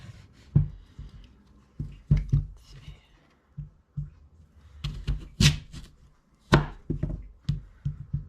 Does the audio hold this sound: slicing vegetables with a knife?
yes